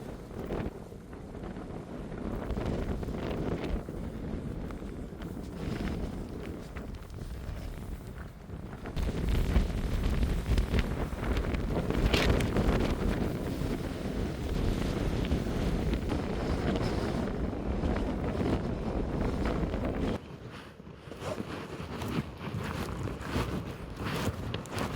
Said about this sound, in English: Min Beach is really exposed and it's so windy.